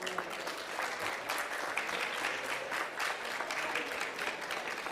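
Audience applause for speakers on stage at a formal public event in Moldova, a steady dense clapping that fills the whole stretch at moderate distance with no talk over it.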